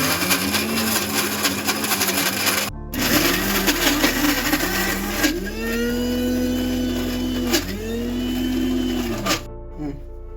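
A kitchen mixie grinds urad dal that was soaked for three to four hours, for vada batter. Its motor gives a loud, steady whirring drone that cuts out briefly near the start, with a second short pause near the end.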